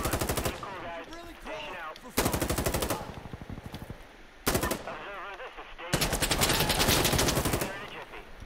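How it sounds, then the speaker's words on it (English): Heavy machine-gun strafing from an aircraft gun run in the shooter game Insurgency Sandstorm, rapid bursts of gunfire in several long loud volleys separated by brief gaps, with voices talking between them. "Gun run coming in over tents."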